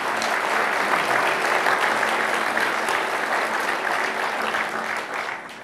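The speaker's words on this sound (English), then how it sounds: "Let's give them another round of applause." A loud, close, sustained round of applause fills the room at the 2015 Edmonds State of the City Address, a dense crowd clapping for several seconds before starting to fade at the end.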